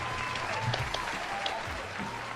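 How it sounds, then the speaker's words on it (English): An audience at a game show episode claps in a steady, dense round of applause, sustained and fairly close for the whole moment. "a huge round of applause"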